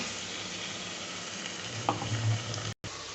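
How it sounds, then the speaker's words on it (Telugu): Mixed vegetables frying with ginger garlic paste in a pan, a constant close sizzle with a brief utensil knock partway through and a short dropout near the end, no talking. "వెజిటేబుల్స్ వేగేటప్పుడు అల్లం వెల్లుల్లి పేస్ట్ వేసుకుంటున్నా ఒక రెండు స్పూన్లు"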